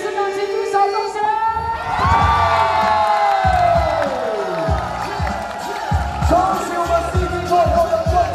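Loud crowd cheering and whooping at a breakdance three-on-three crew battle final, sustained throughout with shouting voices and a sweeping tonal sound over the noise.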